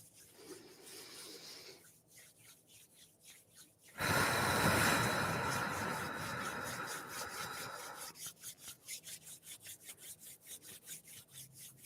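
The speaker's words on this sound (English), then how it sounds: "Keep continuing to rub our hands together to get them to start up." Hands rub together during a meditation circle, soft rhythmic swishes that swell into a loud, dense rubbing burst for several seconds before returning to gentle back-and-forth strokes.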